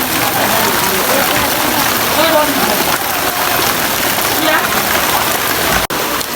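Heavy rain pours steadily at an outdoor gathering, a dense, loud, continuous hiss of drops on surfaces throughout.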